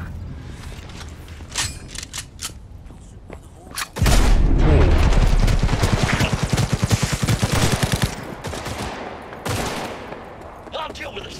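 Gunfire in the video game Cyberpunk 2077: a loud, sustained burst of rapid automatic shots lasts about four seconds, with scattered single shots and mechanical clicks before and after it.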